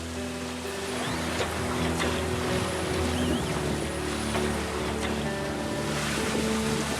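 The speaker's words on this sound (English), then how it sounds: "we've been tacking for hours against a strong current" A sailboat tacks for hours against wind and a strong current, with steady wave wash and hull noise, wind buffeting the microphone, and tonal creaks or hums underneath, continuous throughout and no voices.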